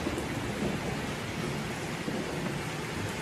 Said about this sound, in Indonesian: Mendung ya. Petir nih.